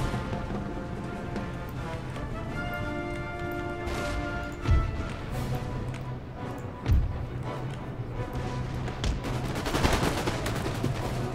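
Volleys of musket fire from massed infantry in Empire Total War, with scattered cracks and a few louder shots over a steady low battle rumble, fairly distant throughout.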